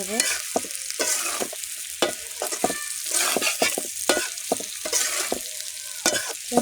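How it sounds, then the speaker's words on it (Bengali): Potato and bitter gourd are stir-fried in a pan, sizzling steadily up close while a spatula scrapes and taps in frequent sharp strokes, with no voices. "আমি আর একটু নেড়ে নেড়ে ভেজে নেব।"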